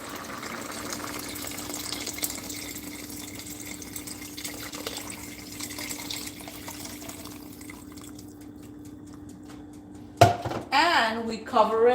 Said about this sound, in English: And we get to pour the rest of the water in.